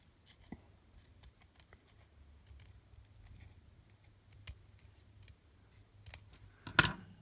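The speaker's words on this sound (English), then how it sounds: "So then I just cut around it." Scissors snip around a painted fake leather piece in a few quiet, scattered cuts, with a louder crisp burst of snipping near the end.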